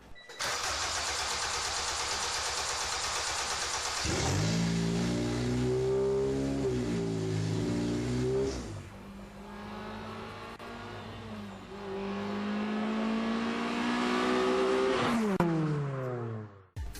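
A car with a swapped-in Honda K20 engine cranks, then fires and settles into a loud, steady idle, with a couple of revs rising and falling before the engine cuts off; no talking.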